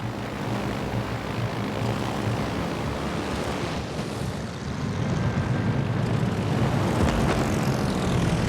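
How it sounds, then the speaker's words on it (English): A fighter plane returns to its carrier in World of Warships Legends with a steady propeller-engine drone that swells slightly louder toward the end, over a low sea-like rumble. "Fighter returning to ship."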